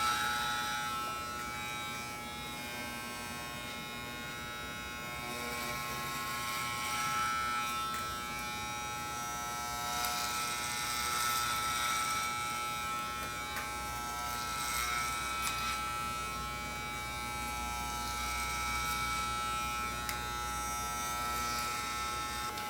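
Electric hair clippers buzz steadily through a men's long clipper cut, working vertical sections of hair across the head, a continuous close hum that swells and dips as the blades move through the hair.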